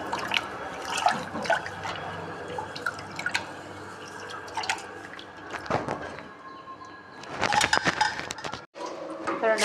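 Raw rice being washed in water in a home kitchen, with intermittent dripping and sloshing splashes, louder bursts of swirling water toward the end, under faint background noise.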